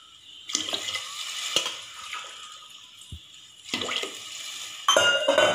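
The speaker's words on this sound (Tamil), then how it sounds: "மொத்தம் 5 டம்ளர் தண்ணி ஊத்தி" Water splashes and pours into a pot of rice and black-eyed peas in several bursts, with clinks of metal and a short thud between pours, close by.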